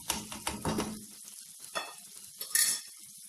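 Chicken pasanday is stirred in a hot pan: several quick scraping strokes over a sizzle, then quieter, sparser scrapes and a brief hiss near the end, close and short.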